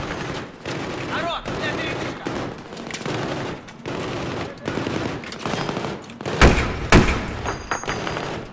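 Gunfire in the video game Battlefield 3: dense, continuous automatic fire with rapid overlapping shots, close and loud, with a couple of heavier impacts near the end, and a voice talking intermittently underneath.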